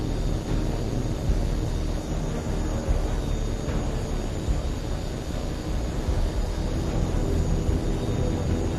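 Fighter jet flying in the video game Tom Clancy's H.A.W.X. 2, a continuous heavy engine roar that holds steady and loud throughout.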